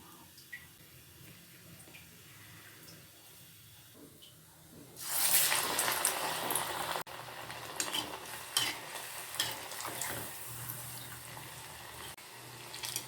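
Keerai vadai, a thin patted spinach and lentil fritter with a hole in the middle, frying in hot oil, a steady close sizzle that starts suddenly midway and holds loud to the end, with some stirring.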